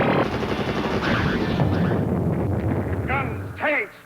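Movie gunfire in a sci-fi battle scene against alien creatures, dense rattling bursts and booms layered with chaotic effects, loud and continuous before fading, with a brief voice at the end.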